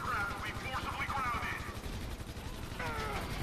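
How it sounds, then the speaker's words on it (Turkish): Bursts of automatic gunfire aimed at police helicopters in Grand Theft Auto V, rattling in quick repeated volleys under someone talking, with a helicopter's drone in the background. "Şu helikopterleri düşürmeye çalışıyor şimdi."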